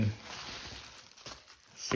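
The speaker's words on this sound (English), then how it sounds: "I'm gonna use one of these plastic bags to stick it" A plastic bag crinkles and rustles close up while a Miata's replacement infotainment screen part is slipped inside it for safe storage, soft crackling throughout with a louder crunch at the end.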